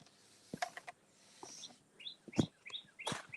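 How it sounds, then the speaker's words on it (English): Birds chirp in scattered bursts of short, high tweets over a quiet outdoor background, fairly faint and intermittent. "You can hear the birds."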